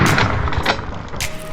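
Several sharp shotgun cracks from a dove hunt ring out over loud rumbling background noise, a few spaced reports within a second or two.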